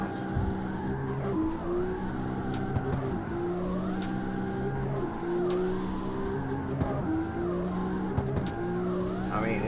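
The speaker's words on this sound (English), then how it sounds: "I know some people like listening to the cars, you know, the car sounds" A racing car engine drones steadily in the video game CarX Street, its pitch rising and falling with gear shifts, while tires squeal and skid repeatedly throughout while drifting.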